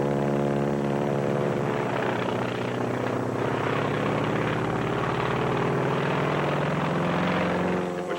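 A Japanese Zero fighter plane's propeller engine drones loudly and steadily, with a dense harmonic hum that holds at the same level throughout and has no other sounds mixed in.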